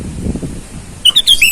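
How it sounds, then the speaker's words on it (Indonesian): A sooty-headed bulbul calls in the wild with several loud, close, bright whistled notes in quick succession, following a stretch of dull low background noise. "Kali ini saya akan mengupload video tentang kicauan burung kutilang."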